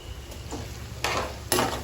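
Green chillies hit hot oil in a pan for mutton pickle, with soft stirring followed by two loud sizzling bursts as the pieces drop in, the frying crackle lingering close.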